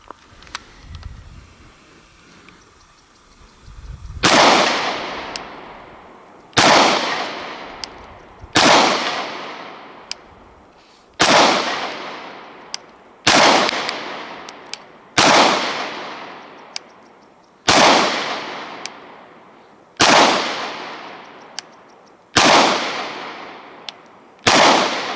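Walther PPQ pistol shots at steel swinger plate targets, about nine sharp loud reports spaced evenly roughly every two seconds, each followed by a decaying ring-out, after a few seconds of quiet handling at the start.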